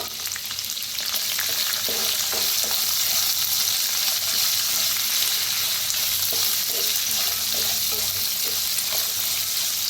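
A large chopped onion hits hot oil with peanuts in a pan and fries with a loud, continuous sizzle, punctuated by occasional spatula scrapes and knocks.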